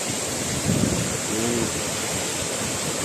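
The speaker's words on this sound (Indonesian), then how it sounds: "Ini masih bagian bawah itu, bagian bawah air terjun." The waterfall at Coban Rondo in Pujon, Malang, East Java, makes a dense, constant roar of falling water throughout, with a faint voice briefly audible underneath.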